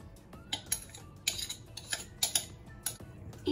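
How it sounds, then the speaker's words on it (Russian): Egg-sugar mixture being stirred into cookie dough in a bowl, with irregular light clinks and taps of a utensil against the bowl, close and fairly quiet. "И перемешиваю до однородности."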